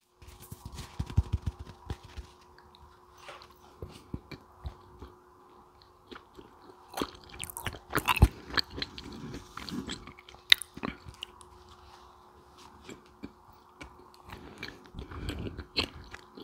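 Close, soft crunching and chewing of vegan cotton candy, irregular bites and mouth sounds repeating throughout at a quiet, intimate level with no talking.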